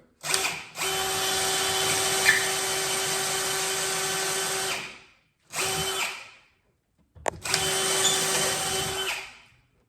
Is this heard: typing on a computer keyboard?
no